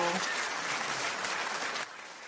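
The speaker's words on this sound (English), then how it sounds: "Sorry, the clapping's a little excessive on this one." Quiet clapping, a steady patter of applause heard fairly faintly for a couple of seconds before dropping off.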